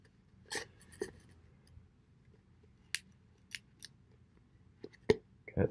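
A Ruike Hussar P121 knife cuts through material, feathering it, producing a handful of faint, crisp snicks and scrapes spaced irregularly against near silence.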